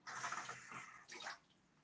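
Cold water pours in a steady hiss for about a second, then a second shorter pour follows after a brief pause, close and moderately loud with no talk.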